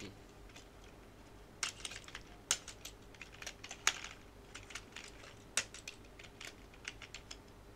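Name typed on a computer keyboard, a string of faint, sparse key clicks at uneven intervals, with a few sharper taps and a low background hum.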